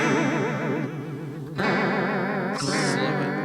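Electric guitar notes wobble and shimmer through a chorus effect, sustained tones with a warbling pitch sway and a brighter, gritty burst near the end.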